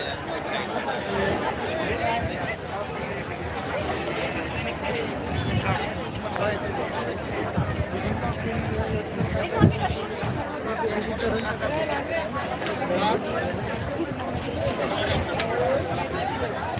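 A huge crowd of students chatters at a Shivaji University convocation beside a Chhatrapati Shivaji Maharaj statue, a dense, steady babble of many overlapping voices with footsteps and movement mixed in throughout.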